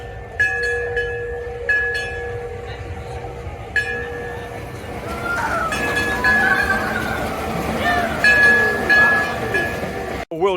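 Runaway Mine Train roller coaster at Alton Towers in May 2024, heard as a steady rumble of train wagons on track with repeated metallic squeals and clinks, fairly close, with faint crowd voices underneath.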